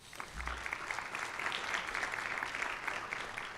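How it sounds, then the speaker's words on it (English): At a school board of education meeting, a roomful of people applaud steadily for several seconds, a dense, even patter of clapping heard from a moderate distance at fairly low level. "I would like to give all the staff members a round of applause for working with our kids."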